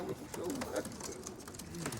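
Tippler pigeons coo softly in a loft, several low throaty coos rising and falling over quiet background noise in a short burst.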